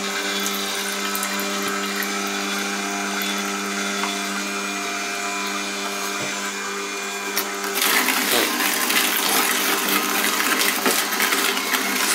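DEXP JC-1501 juicer running and grinding produce, a steady loud motor whir with a harsh clattering, rattling grind that grows louder and rougher in the second half.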